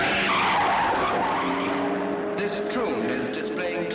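Racing cars at speed on the 2.9-mile Silverstone circuit in a 1960s race, a loud continuous engine roar with tyre skid and whine, a car passing close near the end.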